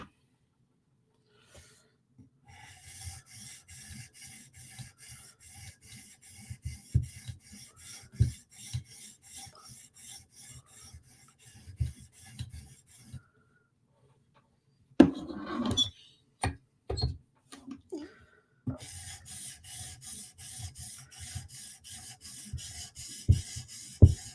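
A Tanto M4 PM2 knife blade rasps across a sharpening stone in repeated back-and-forth strokes, close and fairly quiet, with a short pause in the middle before the strokes resume.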